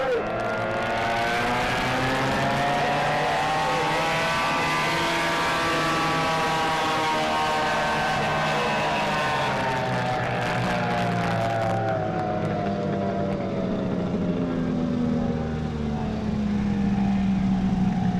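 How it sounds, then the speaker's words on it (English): Racing powerboats blast past at around 102 mph on a lake race course, engines rising and falling in pitch as they sweep by, loud and continuous, with a faint announcer voice underneath. "Your winner in this heat, Andy Driver at 102 miles an hour in the inside lane."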